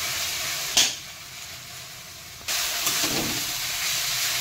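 Jute greens and red amaranth frying in spices over a low flame give a steady broadband sizzle and hiss, with a short clatter near the start and a louder burst of frying after a couple of seconds, no voices.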